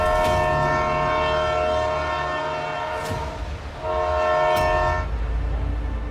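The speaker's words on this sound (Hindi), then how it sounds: "ट्रेन निकलने वाली है।" A train horn blares loud and sustained over the rumble of a railway train about to depart, with the tone cutting out briefly and then returning, no speech.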